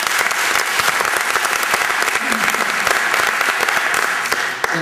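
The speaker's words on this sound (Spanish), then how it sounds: "un aplauso. Un aplauso." Dense, sustained applause from an audience at a film festival gala, a steady wash of many hands clapping with no pauses.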